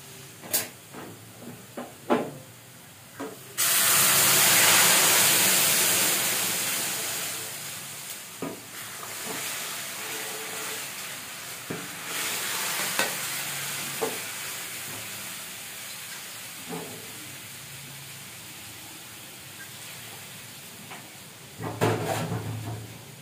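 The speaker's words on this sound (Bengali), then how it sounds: "পেঁয়াজটা লাল করে বাদামি বাদামি করে ভাজা হয়ে গেছে, এবার আমি ডালটা ঢেলে দেবো।" Mung dal poured onto onions fried brown, then stirred in the pan: a loud burst of sizzling as it goes in, settling into a steady hiss with scattered scrapes and clinks of the spoon.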